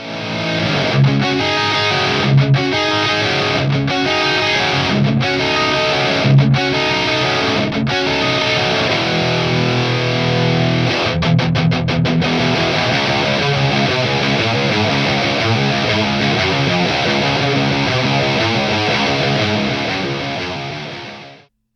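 Loud, heavily distorted electric guitar through a BluGuitar Amp1 Mercury Edition amplifier playing chugging riffs with sharp stops, then sustained crunchy chords ringing out before cutting off.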